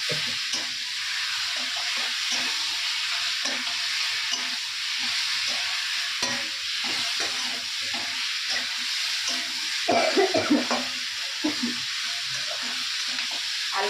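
Potatoes fry and are stirred in a pan at home, a steady loud sizzle and hiss with repeated scraping and stirring knocks throughout, no talking.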